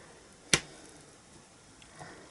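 Pokey tool punching a hole in the top of a paper card tag, a single sharp snap-like click standing alone in a quiet room, followed by faint soft handling sounds.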